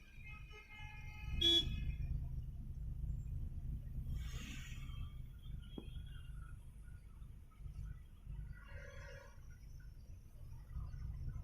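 Car horns honk in a traffic jam, a few short toots scattered over steady low engine and road rumble, one near blast early and fainter honks later.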